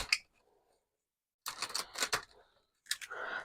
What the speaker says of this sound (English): These cards are tiny, so I am useless at shuffling them.